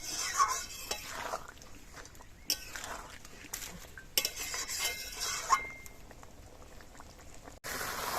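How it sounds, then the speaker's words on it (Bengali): Mutton being stirred and braised in a pot with splashes of hot water for Bengali mutton kosha, a steady bubbling simmer broken by scraping spoon strokes and a few sharp metallic knocks, close and moderately loud. "এইভাবে জল দিয়ে দিয়ে 4 থেকে 5 বার মাংসটা কষাবো।"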